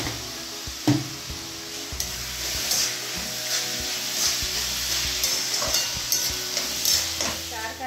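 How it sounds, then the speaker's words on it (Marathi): Onions fry in a pan with a little salt while cooking for a baby prawn masala. A steady close sizzle runs throughout, broken by repeated scraping and stirring of the pan. "आपला कांदा लवकर भाजण्यासाठी मी थोडंसं मीठ टाकते."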